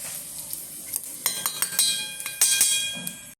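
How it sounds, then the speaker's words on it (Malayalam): A dried red chili dropped into a hot pan gives a soft sizzle, and a spoon clinks and scrapes against the metal a number of times. The sounds are close and fairly faint, with no talk. "ഞാൻ ഇതിനകത്തോട്ട് ഒരു ഒരു മുളക് ഉണക്കമുളക് കൂടെ ഇങ്ങനെ വെറുതെ ഇട്ട് കൊടുക്കുകയാണ്"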